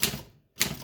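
Keys strike on an Alpina SK 24 typewriter: two sharp, close mechanical clacks separated by a brief silence, each with a crisp bright attack and short rattling decay.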